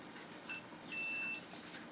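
Two short, high electronic beeps from a multimeter continuity test, the first brief and the second held for about half a second, against a quiet background.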